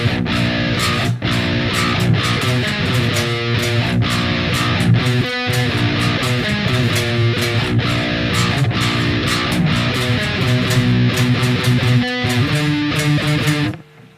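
Distorted electric guitar plays a full song section, a dense, loud sustained wall of chords with sharp rhythmic attacks, running steadily for about fourteen seconds before cutting off.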